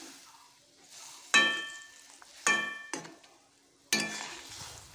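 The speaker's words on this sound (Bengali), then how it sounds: "হালকা একটু নেড়ে দেব" Fried bata fish is stirred into a thin tamarind curry in a pan, with three or four sharp metallic clinks of a utensil against the pan, each ringing briefly over a soft simmering hiss.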